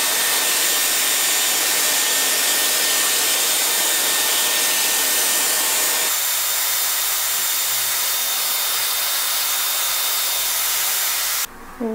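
A Dyson Airwrap hair styler runs continuously with a steady, close rushing hiss of blown air that shifts in tone partway through, without any voices.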